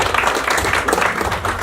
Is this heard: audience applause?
yes